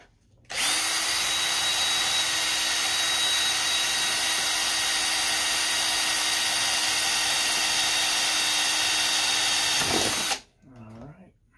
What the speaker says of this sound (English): go ahead and get our drill and locate our holes